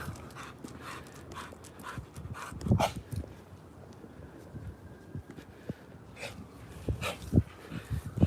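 On a short neighborhood walk a dog pants steadily nearby, rhythmic breathy puffs mixed with footsteps and scattered outdoor knocks, moderately loud, with no talking.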